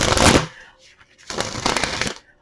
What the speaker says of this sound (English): as I was shuffling the cards